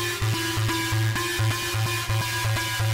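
An uncompressed synth lead plays a repeating melodic figure over a pulsing bass and beat, dynamic and uneven in level, with no voices.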